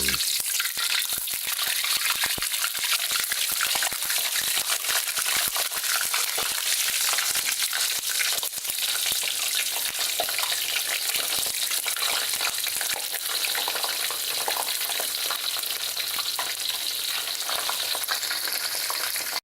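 Eggplant frying skin-side down in very hot cooking oil, a dense, loud, continuous sizzle with rapid crackling pops that holds steady throughout with no voices.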